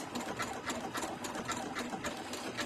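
A sewing machine runs steadily at moderate speed, stitching decorative stitches along a zipper, its rapid rhythmic needle chatter filling the short clip at close range.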